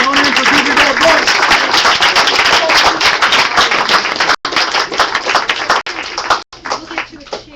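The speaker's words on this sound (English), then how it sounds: "Let's give one more big round of applause for Winona and for giving that book." A book-talk audience at a Food and Water Watch event breaks into a big round of dense, sustained applause, loud and close, with brief dips near the end as the clapping starts to thin.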